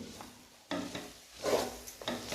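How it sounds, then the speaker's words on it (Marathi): Jaggery is stirred in a pan until it melts, with a spoon scraping and rubbing in a few separate strokes and a faint sizzle between them, close by and fairly quiet. "हे मी गुळ असं व्यवस्थित असं ह्यामध्ये विरगळेपर्यंत व्यवस्थित असं परतून घेते"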